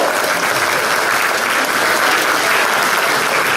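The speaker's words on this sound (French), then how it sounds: "Je vous prie d'accueillir, mesdames et messieurs, sous un tonnerre d'applaudissements" Loud, sustained applause from the audience at an evening sports awards ceremony as an honoree is welcomed for a medal, a thick continuous roar of many hands clapping without a break.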